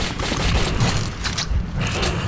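Rapid gunfire in the video game Metro 2033, with several loud shots fired in quick succession at close range amid dense, rumbling combat noise.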